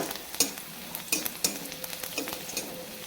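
Garlic frying in oil in a pan for a Bengali jute-leaf dish, with a soft continuous sizzle broken by sharp scraping and clinking of a stirring utensil every second or so.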